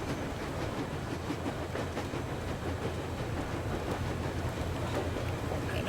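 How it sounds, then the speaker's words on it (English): Moving train in the video game Metro Exodus, heard from outside on the front: a dense, continuous rumbling roar with faint rhythmic clatter, loud and unbroken throughout. "I'm outside on the front of the train."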